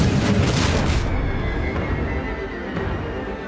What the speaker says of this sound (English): John Worden's turret guns follow his enemy's every move, firing shot after shot.